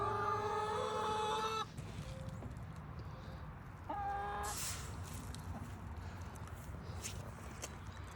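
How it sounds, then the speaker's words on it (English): Chickens cluck in two short bursts, fairly quiet, with soft scratching and rustling in the gaps between. "Chickens are happy, getting their scratch."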